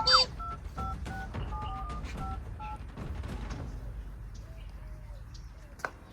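A telephone keypad being dialed in a comic home scene, a string of short, evenly spaced DTMF tone beeps in the first few seconds, with quiet room noise and a brief voice after.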